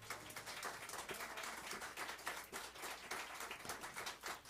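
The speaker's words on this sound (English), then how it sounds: "I want you to give them another nice round of applause." Faint, steady applause rises from a small audience at a live-streamed band performance, honoring the group's young pianist; dense, even clapping continues throughout without voices over it.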